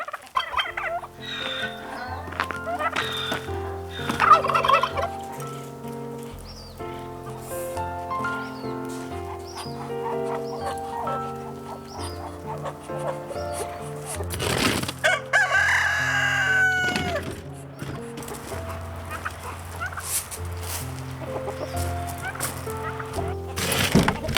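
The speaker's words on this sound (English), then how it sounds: "That rooster literally is after me." Poultry calls on a farm fill the clip: repeated gobbling and crowing from birds close by, including a rooster, with clucks and scattered noises between them.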